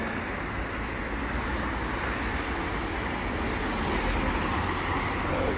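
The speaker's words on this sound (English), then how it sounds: "Nobody is speeding, but the road is busy." Busy traffic on a 30 mph dual carriageway in Slough makes a constant broadband rush of passing cars and heavier vehicles, a dense steady roar heard from inside a moving vehicle.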